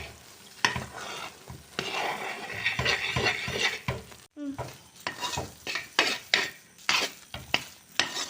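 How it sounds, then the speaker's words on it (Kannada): Ghee poured into a pan and stirred while cooking Mysore pak: steady sizzling and frying with repeated scraping of a spoon against the pot, close and continuous, without talk. "ತುಪ್ಪವನ್ನೆಲ್ಲ ಹಾಕುವ ಇದಕ್ಕೆ. ಇಲ್ಲಿಗೆ 1 ಲೀಟ್ರ್ ತುಪ್ಪ ಹಾಕಿದೆ ಇವಾಗ."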